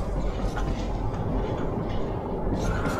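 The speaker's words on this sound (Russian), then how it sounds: "Невидимый поезд, да? Невидимый поезд призрак." Invisible ghost train rumbling past in the Metro 2033 Redux video game, a steady loud low-frequency roar with faint rail clatter filling the whole moment, no voices over it.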